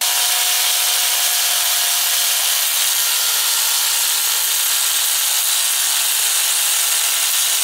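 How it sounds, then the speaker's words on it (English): RotoZip rotary tool fitted with a metal cutoff wheel slicing along a marked line in metal, a continuous high-pitched grinding whine held steady throughout, close and loud with no talking. "So I have a RotoZip tool with a metal cutoff wheel. We're just going to cut according to the line."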